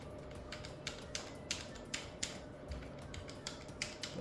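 Quick, irregular keystrokes on a computer keyboard used to enter a server's BIOS, a dozen or so clicky taps close by over a steady low electrical hum, with no talking.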